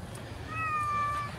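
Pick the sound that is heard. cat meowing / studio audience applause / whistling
cat meowing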